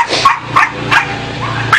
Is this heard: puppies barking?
yes